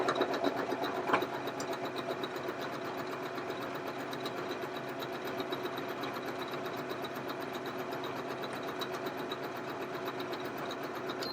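Janome 2030DC-T computerized sewing machine stitching stretch material, a steady, fast whirring rattle of the needle running evenly for several seconds, fairly quiet and close, with no voices.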